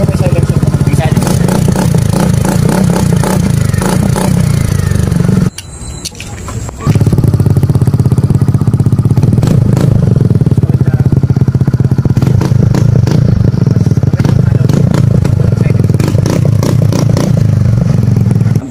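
A Suzuki Burgman scooter fitted with a Yoshimura R77 exhaust muffler and silencer runs loud and close, a steady low engine drone with clattering texture, briefly dropping out before resuming for a long stretch.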